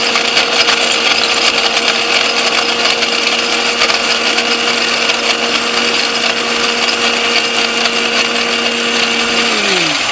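A RadSwiss multifunction kitchen appliance's electric blender runs at a steady, loud whine with a constant motor hum, then winds down as it switches off near the end, with no talk over it.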